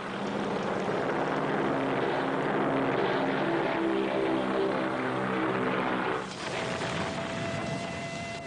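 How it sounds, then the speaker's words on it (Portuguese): WWII American carrier aircraft in flight near Midway in 1942, a loud, steady propeller-engine drone with a pulsing beat that holds for about six seconds before shifting pitch as the planes pass. "os porta-aviões americanos lançaram seus aviões e atacaram a frota imperial."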